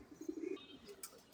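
A silver pigeon coos softly nearby, one low rolling coo followed by a fainter chirp, quiet overall with no speech.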